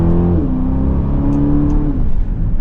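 A 2024 Aston Martin DBX accelerating hard under manual paddle shifting, a loud close engine roar whose pitch climbs, then drops at a gear change before rising again.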